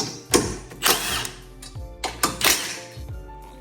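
Hand ratchet loosening 15 mm and 13 mm brace bolts under the hood of a BMW G80, giving several short clicking bursts close up with quiet gaps between strokes.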